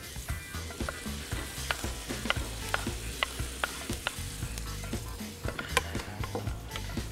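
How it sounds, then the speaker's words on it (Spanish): Garlic sautéing in butter in a preheated pan sizzles steadily and close, with frequent light clicks of stirring scattered throughout. "Salteamos el ajo"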